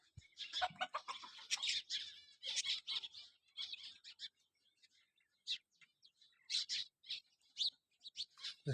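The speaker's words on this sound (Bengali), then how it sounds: "ভরে এখানে পাখি আলে" Birds chirp and chatter in dense bursts, close and clear at first, then thin out into scattered calls with short silent gaps and no talking.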